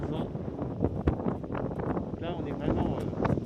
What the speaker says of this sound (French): Alors là, vous voyez, il y a le vent.